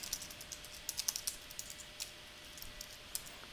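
Fingers tap on a computer keyboard while filling in form fields, a light, irregular patter of quick clicks with small pauses, soft and close in a quiet room.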